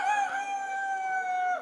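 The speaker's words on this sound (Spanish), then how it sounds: "Ay, sí parece un gallo, parece un guajolote." A rooster crows once, a single clear sustained call held for over a second with strong harmonics, close and loud with a quiet background.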